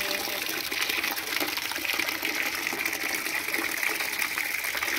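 Water gushing steadily from a tap or hose during washing in a home, a continuous close rushing stream with no breaks.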